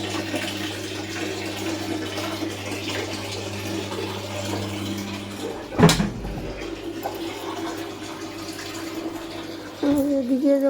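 A washing machine fills with water while washing clothes in a home, a steady hiss and hum of running water throughout, broken by a brief knock midway and a shift in flow near the end.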